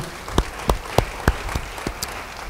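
A church congregation claps in a slow, evenly spaced series of about eight distinct claps, fairly close and moderately loud, with no talk over them.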